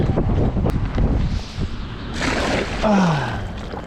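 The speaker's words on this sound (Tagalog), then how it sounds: "maingay po yung ating video ngayon, kasi malakas po yung hangin" Heavy wind buffeting the microphone in rough gusts at the seashore, swelling louder toward the end, with splashy outdoor noise underneath.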